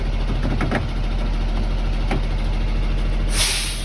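A school bus idles during a pre-trip check in Pennsylvania, its engine rumbling steadily while a couple of short air-brake hisses pop through. A louder sharp hiss of released air closes the sequence.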